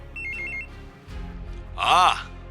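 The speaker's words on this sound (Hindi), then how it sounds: "फोन बजा" A short electronic phone ring sounds briefly, then a rumble and a loud warbling tone follow.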